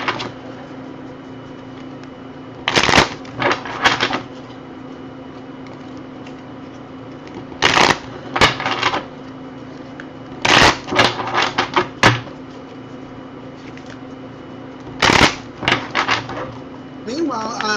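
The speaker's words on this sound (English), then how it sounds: "Let me shuffle some cards for you, Joseph." Several short bursts of riffling playing-card shuffles, each a second or so long, repeated at intervals over a steady background hum.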